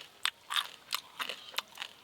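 Close crunchy bites and chewing of spicy crab curry with eggplant mixed into rice, several sharp crackling crunches in an irregular rhythm with short pauses, no talking.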